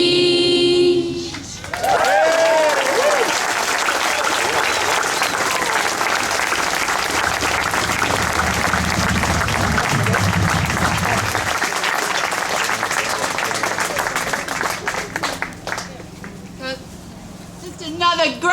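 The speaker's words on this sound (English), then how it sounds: "Just another great round of applause for those amazing kids" Sustained audience applause fills most of the stretch after a children's song performed by young girls at an outdoor wetlands rally, loud and dense, with voices mixed in and a brief musical tone at the start.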